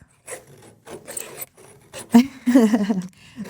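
A colored pencil is sharpened in short scraping, rasping bursts, close up, with brief pauses between strokes and the last bursts louder and longer.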